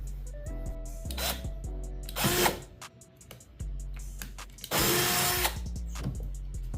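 Power drill driving three screws into a Scotty gear track on a kayak, heard as several short whirring bursts separated by pauses, fairly close and moderately loud with no talk.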